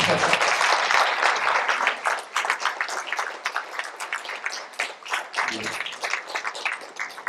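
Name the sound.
audience applause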